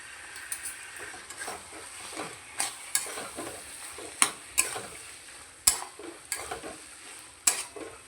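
A bottle gourd curry finished with a little ghee is stirred in a pot, giving a faint sizzle under irregular spoon scrapes and metallic clinks against the vessel. Nobody speaks.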